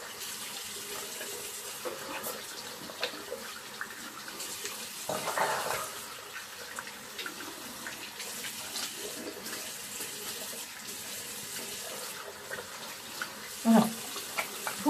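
Tap water runs steadily from a bathroom faucet as a face mask is rinsed off, a continuous moderate splashing stream with a brief louder burst near the end.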